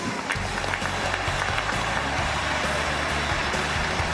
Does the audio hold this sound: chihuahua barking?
no